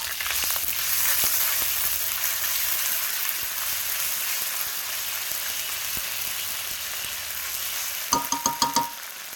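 A tempering of chilli and cumin seeds crackles in hot oil in a wok, a loud continuous sizzle with faint stirring, then a quick run of four or five sharp metallic taps at the end.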